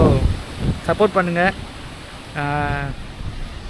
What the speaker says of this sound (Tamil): இங்கே காற்று பயங்கரமாக வீசுது